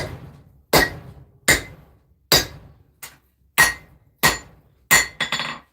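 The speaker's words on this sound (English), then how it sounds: "I'm going to start forging out the choil some more, and hopefully turning it into something more elegant." Hammer strikes on a hot knife blade at the anvil while a blacksmith forges out the choil, seven sharp ringing metallic blows at a steady pace, close and loud, with a quick final flurry.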